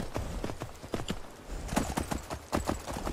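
Horse hooves clip-clopping in the video game The Elder Scrolls V: Skyrim: a quick, steady run of close, loud hoofbeats in an even galloping rhythm with no talk.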